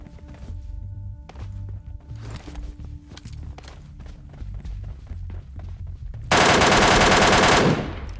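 In PUBG Mobile Lite, scattered footsteps and quiet taps lead into a loud, sustained burst of automatic gunfire lasting over a second near the end.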